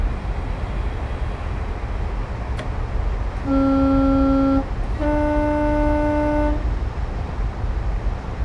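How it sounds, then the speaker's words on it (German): An HST train horn gives two sustained single-tone blasts, the first shorter and the second longer, over the steady rumble of the moving train. "Die Hupe ist eigentlich so ein Wippschalter hier, aber egal in welche Richtung es macht, er macht einfach nur das eine Horn."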